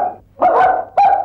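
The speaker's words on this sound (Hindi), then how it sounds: "कुत्ते ने भौंक दिया" A dog barks close by, a few loud, sharp barks in quick succession with short pauses between them.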